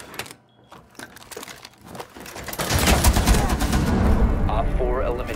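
Gunfire in Rainbow Six Siege begins as scattered sharp shots and then swells into dense, loud rapid bursts and fusillades, with a voice talking over it.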